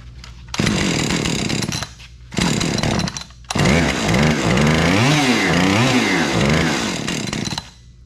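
A Husqvarna 550 XP chainsaw, a mark 2 with a loose spark plug, revs loudly in three bursts, idling briefly between them, then runs on with warbling revs before cutting out as it runs dry of fuel.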